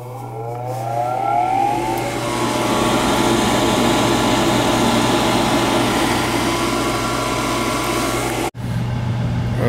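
Gas furnace with a new exhaust fan motor and cleaned flame sensor firing up, a loud steady blower roar with a low mechanical hum and rising whine as it spins up, running continuously with a brief dropout near the end.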